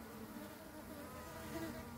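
Honeybees swarming around a dropped honeycomb frame holding the queen, giving a soft, steady, low buzzing hum that is faint and continuous, with no voices.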